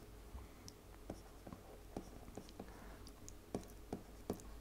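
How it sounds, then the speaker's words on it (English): Quick strokes and taps of a pen or marker writing index notes, sounding as a close, faint run of sharp ticks that come irregularly over a quiet background. "let's write it down like that"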